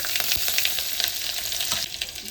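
Chillies sizzle and crackle loudly in hot oil with mustard seeds and cumin while dal palak is being cooked, a dense, close frying hiss with quick pops throughout.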